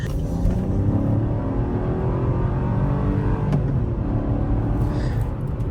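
An inexpensive new SUV's engine revs up and accelerates, the pitch climbing smoothly, then dropping briefly at a slow gear change before rising again; loud and close, no talking.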